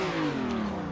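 Car engine in a drift racing simulator game, a loud, continuous engine drone with a slowly falling pitch as the throttle eases, nothing else over it.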